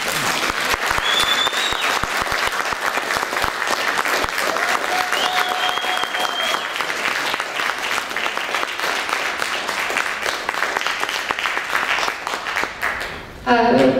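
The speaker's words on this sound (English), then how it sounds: "think they deserve another round of applause" A school band concert audience gives sustained applause, many hands clapping in a thick, even roar with a few whistles riding on top, continuing for a long stretch before cutting off near the end.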